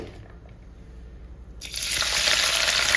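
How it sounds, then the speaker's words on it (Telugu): Onions dropped into hot oil for a cashew chicken fry, with a near-silent start before a loud, steady sizzle bursts in about halfway and holds to the end. "ఈ ఆనియన్ ఫ్రై చేసుకోవాలి కొంచెం కొంచెం కొద్దిగా కొద్దిగా వేసేసి ఫ్రై చేసుకుంటాను"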